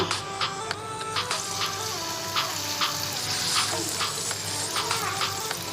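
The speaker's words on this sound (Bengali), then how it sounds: "ফ্রাই প্যানে তেলটা গরম হয়ে গিয়েছে আমি এখন কাবাবগুলো দিয়ে দিব" Kebabs frying in hot oil in a frying pan give a close, steady sizzle and crackle with occasional clinks and stirring, with no talk over it.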